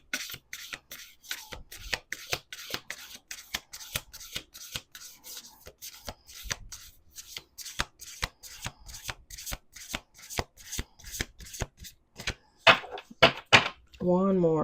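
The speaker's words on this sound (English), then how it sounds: "let's do 2 more shuffles" Deck of cards shuffled repeatedly, crisp riffling bursts at a steady rhythm, close and clear, followed by a quick bridge-style flutter near the end.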